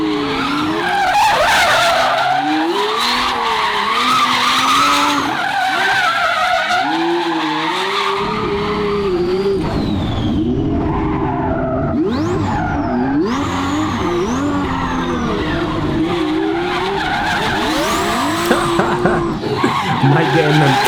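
A DDE twin-turbo Ferrari V12 drifts sideways, tires squealing in long wavering shrieks over a loud, revving engine roar, with voices talking over it throughout.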